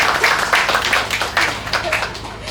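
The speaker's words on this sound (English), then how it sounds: "that's a round of applause" Applause and clapping at a Publix supermarket grand opening during its 95th anniversary, a crowd clapping in uneven bursts for a couple of seconds with faint voices mixed in.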